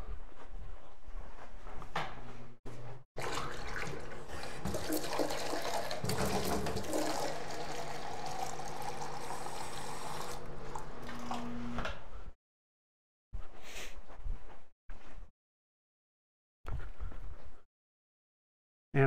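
Tap water runs into a cup for about twelve seconds with a steady rushing splash, then stops, followed by a few short bursts of handling noise separated by silence.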